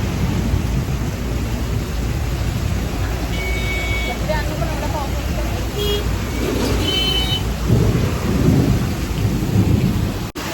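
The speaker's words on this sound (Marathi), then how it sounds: "आणि इथं जोरात पाऊस पडतोय." Steady heavy rain roars throughout in a village, with a deep rumbling wash underneath and voices chatting faintly in the background.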